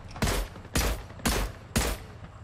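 Four loud, evenly spaced gunshots ring out in Fortnite, each a sharp, booming crack with a short decaying tail, firing at a steady rhythm with no voices.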